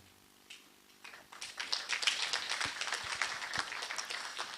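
An audience at an awards forum in Taita Taveta County bursts into applause, starting as a few scattered claps then swelling into fuller, brisk clapping that stays fairly faint and distant, with no speech.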